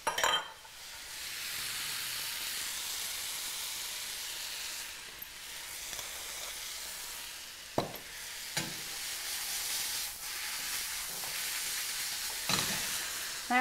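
Black beans and spinach sauté in a pan with a soft, steady sizzle and hiss, broken by occasional scraping strokes of a utensil stirring against the pan.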